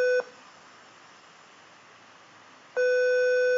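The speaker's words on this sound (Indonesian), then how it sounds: "Biarpun lampu ini tidak nyala, tapi buzzer itu tetap bunyi." A steady electronic buzzer tone from a simple switching UPS circuit sounds, cuts out for a few seconds, then resumes, loud and continuous.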